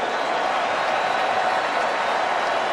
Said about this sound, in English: Let's give our national champions another round of applause.